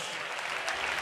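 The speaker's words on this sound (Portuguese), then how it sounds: "Dê a Jesus um aplauso poderoso." Church congregation applauding, a brief dense burst of many hands clapping together, fairly faint and heard alone.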